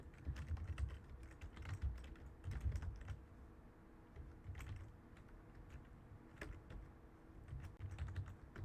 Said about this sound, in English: I'll just go ahead and type it in.